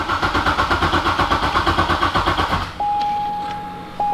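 A Corvette C6 Z06 engine cranking in a steady rhythmic chug for nearly three seconds, with the clutch in and the pedal floored to build oil pressure, then a loud constant tone starts and cuts out briefly near the end.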